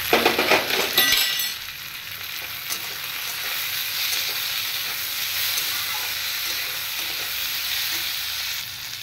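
Chopped tomatoes go into a pan of browned onions for mutton curry, setting off a loud burst of hissing and clatter that settles into an even, close sizzle.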